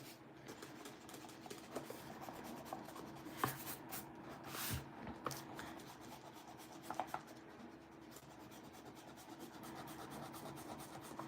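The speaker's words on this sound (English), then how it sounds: "So now I get to erase all of my pencil." An eraser rubbing pencil lines off paper artwork, a soft continuous scratchy scrubbing with a few sharper strokes, close but faint and with no voices.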